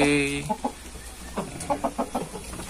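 Ayam madu, a fighting-breed rooster kept as an ornamental bird, clucks in a series of short, fairly close calls with a longer crowing-like note at the start.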